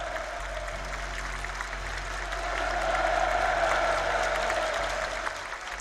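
Applause and cheering from a theater audience at a ballet performance in Pyongyang, a steady wash of clapping that swells in the middle. It sounds distant and fairly faint over a low hum.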